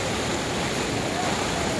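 Water rushing and surging in a steady, loud broadband roar with no break, like a strong current pushing through.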